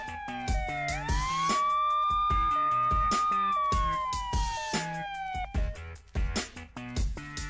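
A police siren wails, sweeping up and then slowly falling, over a steady thumping beat and music, loud and close throughout.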